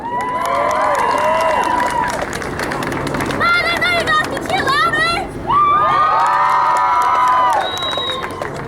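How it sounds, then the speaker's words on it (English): An enthusiastic crowd at a cosplay contest cheers and shouts in loud, continuous bursts, with high excited children's voices rising over the noise and some clapping mixed in. "They're here for your enthusiastic cheering"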